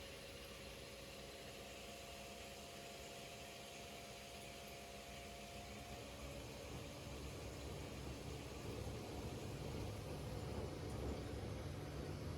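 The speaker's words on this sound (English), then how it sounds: "That is the pumps, the dual pumps working as it's pumping the fuel out of the tank up through this" Dual electric fuel pumps draw fuel out of a car's tank through a hose into a gas can, making a steady whirring drone with a faint whine that swells slightly louder toward the end.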